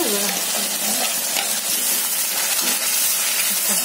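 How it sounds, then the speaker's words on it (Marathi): Masala spices sizzle steadily in hot oil in a pan while being stirred for a spicy shev bhaji curry, a dense continuous frying hiss with scraping stir sounds and no talk. "हा मसाला त्याच्यात घालते आता।"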